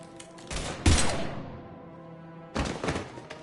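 Gunfire in the video game Mass Effect 3, heard as loud bursts of shots with a booming impact and a fading tail, then another burst after a brief pause.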